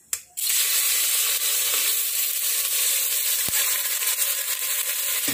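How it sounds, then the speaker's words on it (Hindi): Rice is tipped into a pan of hot ghee and cumin seeds, setting off an instant loud, steady sizzle that carries on without pause, close up, with a couple of sharp clinks of a utensil against the pan. "बस अब इस मोमेंट में हम ऐड करते हैं अपना राइस।"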